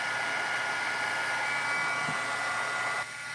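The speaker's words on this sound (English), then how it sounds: "I'm actually going to use a heat gun because I think that the heated craft tool will take too long because it's embossing" A heat gun blows steadily for embossing on a craft table near a silicone mat, a constant close, loud airy rush that runs for about three seconds before cutting off abruptly.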